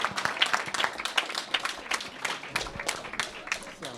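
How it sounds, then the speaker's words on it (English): Dense applause fills a community meeting hall, many hands clapping steadily and loudly throughout, with scattered voices and cheers mixed into the crowd. "I gotta wait for those claps to go down"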